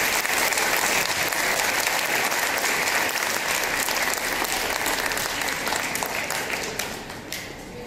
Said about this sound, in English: Please give a round of applause for our silver level students.